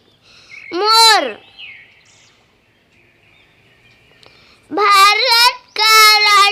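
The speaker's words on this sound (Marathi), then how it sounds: "मोर" A peacock gives one loud, wailing, nasal cry up close, then after a quiet pause repeats with two quick pairs of harsh, ringing calls.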